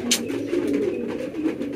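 Homing pigeons at the Kazir Hat pigeon market in Chattogram coo in a low, soft, continuous murmur nearby, with a brief sharper noise at the start.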